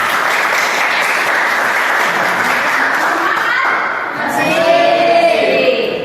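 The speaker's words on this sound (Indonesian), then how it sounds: "beri aplaus untuk kalian semua" Students in a classroom give a burst of applause, steady, loud clapping from many hands close by, with voices and chatter rising as it tapers off.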